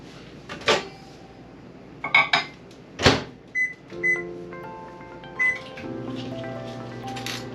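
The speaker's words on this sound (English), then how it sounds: "I'm going to put it in the microwave, but only for about 15 seconds at a time" A kitchen microwave oven melting butter: a few door clunks and button beeps, then a steady low hum as it starts running, with no talking.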